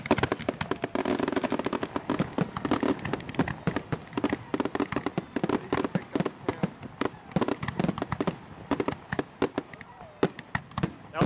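A bonfire-night fireworks display at Stoke Park in Guildford bursts in a dense, rapid barrage of crackles and bangs that keeps going for the whole stretch, fairly distant.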